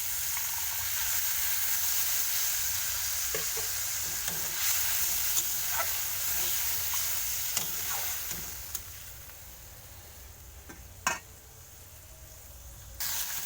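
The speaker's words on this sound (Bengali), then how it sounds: "কিছুটা জল দিয়ে কষতে থাকবো।" Ground cumin and spices sizzling in a pan with a little added water while being stirred, a steady close hiss with scattered scraping stir strokes and a few sharper clinks, no talking.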